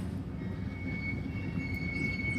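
Trains and locomotives at the Golden Spike railroad yard in North Platte, Nebraska give off a steady low rumble with a faint, thin high squeal from the wheels, heard at a distance with no talking.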